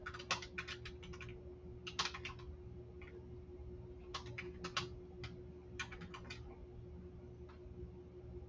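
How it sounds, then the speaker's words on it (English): Bursts of quick typing clatter on a computer keyboard in short irregular runs separated by pauses, faint and close, over a steady low electrical hum. "I got to do some typing."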